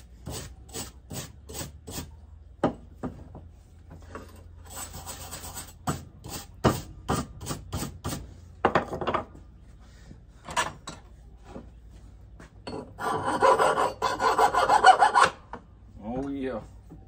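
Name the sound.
grinder working on a project piece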